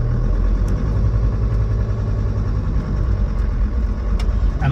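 A Land Rover Defender 90 TD5 diesel engine idling, a steady, close, loud low rumble with a slight clatter, running evenly without misfires throughout.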